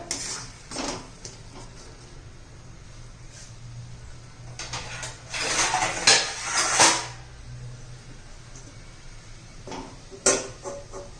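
A metal lid set down on a cooking pot of spicy black chickpea masala, with a few clinks and clatters of metal cookware, loudest in a burst near the middle and again near the end, over a low kitchen hum.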